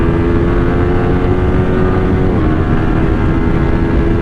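Yamaha R15 V4 and KTM Duke 200 motorcycles in a drag race, their engines roaring loud and close at sustained high revs with a dense, steady buzz.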